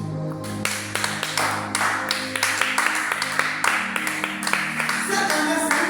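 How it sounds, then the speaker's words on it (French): A church congregation claps in rhythm to acclaim the Lord during a worship service, with sharp, repeated handclaps in a steady beat, loud and close, over sustained musical or vocal tones. "Acclame le Seigneur."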